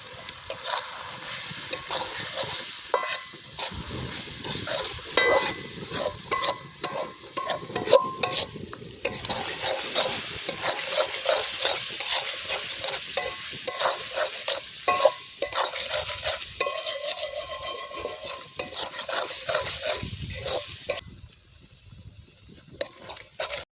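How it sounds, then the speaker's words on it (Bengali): Fish curry masala of chilli powder, turmeric, cumin and coriander sautéing in oil in a village kitchen, a loud continuous sizzle with busy stirring and scraping of a spatula in the pot, close by with no talking. "এখানে আমাদের কষানো চলছে। এবারে একে একে মশলা দিয়ে দেবো"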